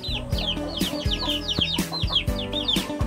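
Chickens, including a young one walking with an older hen, cluck and peep repeatedly in an outdoor yard, with busy overlapping calls and scratchy rustling close by.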